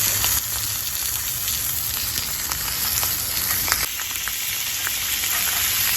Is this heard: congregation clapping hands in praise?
no